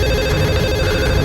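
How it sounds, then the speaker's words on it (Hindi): A telephone rings loudly and continuously for the whole short moment, close and steady, with no voices. "देखो किसका फोन।"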